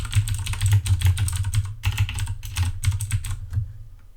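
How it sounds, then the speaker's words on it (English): Typing on a computer keyboard while a TONOR TC-777 USB microphone sits on the same surface without a shock mount, giving rapid close clatter with heavy low thumps carried through the desk, then a brief pause and more typing. "here is how the same keyboard sounds like with the microphone placed on the same surface"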